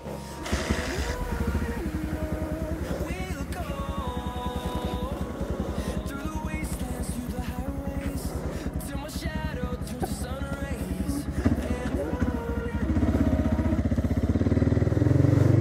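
A Motorstar Cafe 150 motorcycle engine drones while riding, its pitch rising and falling through gear changes, growing louder and rougher toward the end.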